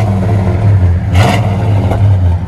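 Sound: muscle car dual exhaust revving

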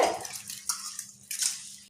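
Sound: rice and toor dal being washed in water

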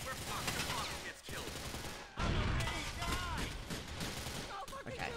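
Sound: gunfire in video game Grand Theft Auto IV

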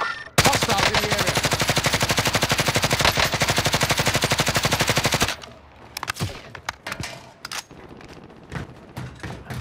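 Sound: gunfire shooting in a video game

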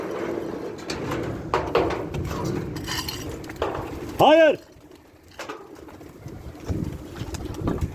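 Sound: birds

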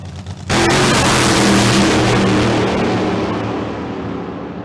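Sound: drag racing car making a qualifying run

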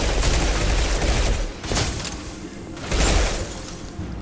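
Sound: gunfire in video game Mass Effect 2

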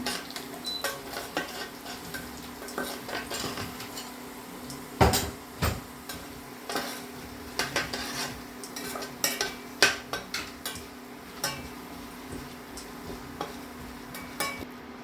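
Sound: frying lentils in tempering oil

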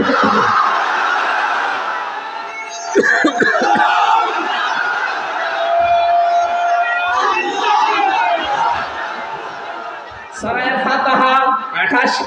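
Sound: crowd responding to the takbir call at a sermon

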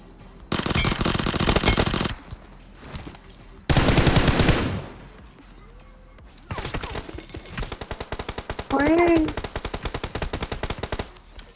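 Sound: gunfire in PUBG Mobile video game

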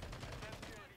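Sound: STG-44 rifle gunfire in video game Modern Warfare 3

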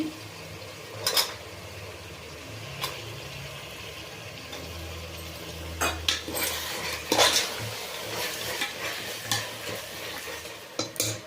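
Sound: peanuts being added to a pan and stirred

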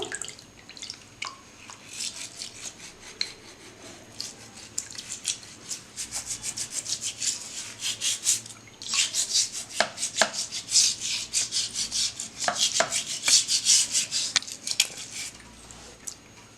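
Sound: scrubbing feet with a foot scrubber

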